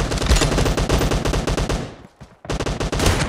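Rapid automatic gunfire in a team-based shooter video game, dense bursts of shots with a brief pause before firing resumes, loud and close.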